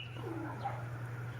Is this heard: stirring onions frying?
no